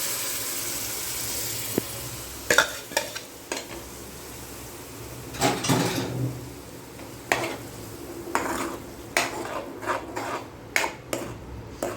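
Ground tomato paste being stirred into a frying pan while making egg pizza, with scattered clinks and scrapes of a spoon against the pan over a soft sizzle, fairly close and quiet.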